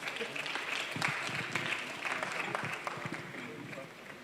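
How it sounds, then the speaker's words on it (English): Audience applause in a university lecture hall for the orator reading a guest lecturer's citation, a continuous rolling patter of many hands at moderate distance with some voices mixed in, tapering slightly at the end. "Please give him a round of applause"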